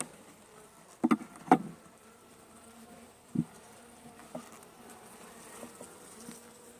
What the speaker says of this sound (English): there is not a whole lot of bees in there